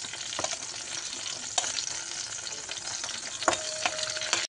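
Pointed gourd (potol) fries in hot oil with a steady soft sizzle. Occasional clicks of stirring are heard, and no one speaks.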